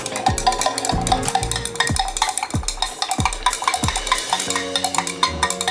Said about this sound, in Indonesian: dituangkan ke air, kemudian diaduk.